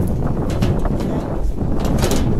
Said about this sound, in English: Man, this wind blows.